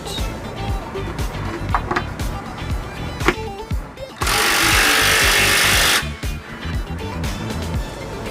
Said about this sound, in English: We're going to use the electric drill just to snug them down